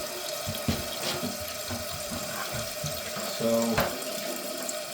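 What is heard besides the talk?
toilet tank refilling through new fill valve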